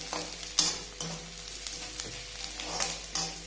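Pulao being stirred in a pan as it fries, with soft scraping strokes and light sizzle recurring at a steady rhythm, close and fairly quiet, no voices.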